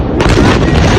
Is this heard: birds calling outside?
no